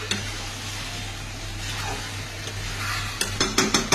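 Chicken for Bengali chicken kosha sizzles in a pan with a steady frying hiss, while a utensil stirs and scrapes against the pan in sharp clatters toward the end.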